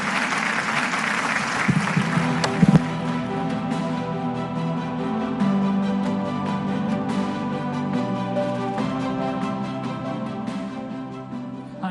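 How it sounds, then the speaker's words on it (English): An audience at the Universal Peace Federation Rally of Hope applauds to welcome Pastor Jonathan Falwell. The clapping is steady and sustained over a sustained tonal bed, building early and then holding on. "Please join me in welcoming Pastor Jonathan Falwell with a round of applause."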